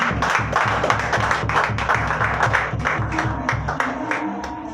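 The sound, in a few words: congregation applauding in church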